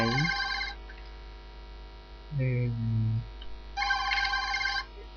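A telephone rings in a horror video game, two bursts of bright electronic ringing separated by a short pause in which a voice speaks, all over a steady low mains hum.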